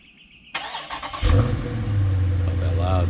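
A Dodge Challenger 392 with its stock exhaust starts up and revs, then settles into a steady rumbling idle, heard from a stoop with the muffler aimed away.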